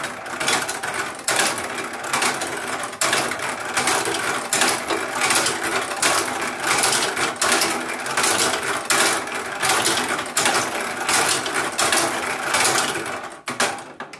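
A PIE 2.0 machine runs on an upgraded motor through a speed controller, with a steady mechanical clatter and rhythmic ticking pulses close by, loud and continuous, with no talk.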